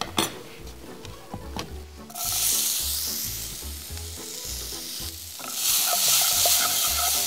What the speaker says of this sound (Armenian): Հիմա ավելացնում ենք սոխը